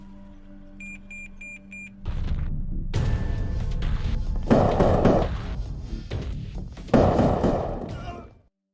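A gunfight in a Korean hitman film follows a repeating electronic beep, with heavy loud bursts of gunfire and impacts in two clusters before cutting to silence.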